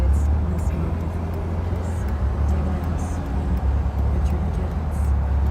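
Freshly rebuilt engine of a Jaguar E-Type running steadily, a loud, continuous low drone with constant engine noise and no breaks.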